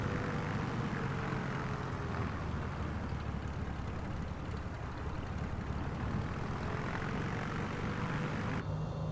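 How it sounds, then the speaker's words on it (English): Beechcraft Bonanza 36 propeller plane in Microsoft Flight Simulator 2020, its engine giving a steady, full droning roar that holds unchanged throughout with no talking. "the small plane I've flown the most, the Beechcraft Bonanza 36."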